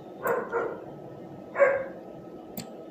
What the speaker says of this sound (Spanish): la perra está ladrando